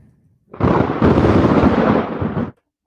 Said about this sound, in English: You love the thunder.